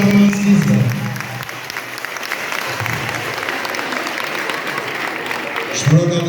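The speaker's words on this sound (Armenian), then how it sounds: "ես կուզեմ, որ բարձր, շատ բարձր ծափարենք ինքներս մեզ" A large audience at a citizens' day event claps loudly and continuously, a dense wash of applause that holds steady throughout, with a few voices briefly audible at the start and end.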